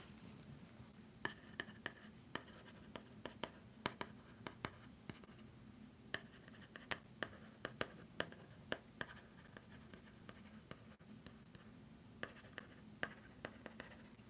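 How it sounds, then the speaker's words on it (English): A pen writes on paper in a quiet room, a soft, close scratching with a run of small irregular taps and strokes over about fourteen seconds, no voices. "I think I'm gonna write that down"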